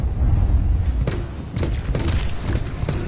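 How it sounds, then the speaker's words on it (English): Bomb explosions from Dr. Junkenstein in Overwatch's Junkenstein's Revenge game mode go off as a few deep, booming thuds against a castle, loud and close amid dense game noise. "Dr. Junkenstein lobbed his bombs at the castle. The explosions a percussive accompaniment to the sound of his laughter."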